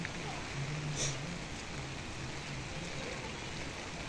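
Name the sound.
rain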